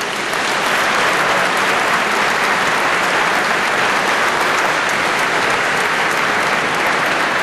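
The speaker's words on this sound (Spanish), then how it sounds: "les pido un fuerte aplauso también para ellos" Loud, sustained applause from an audience at a presentation gala, a dense, even wash of clapping that carries from start to finish without pause.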